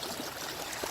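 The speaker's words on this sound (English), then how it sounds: "Now my goal is to see where this water wants to naturally flow right in this area" Rainwater runs across a yard toward a nearby creek, giving a faint, soft trickle and light gurgle that flows evenly throughout, with no voices.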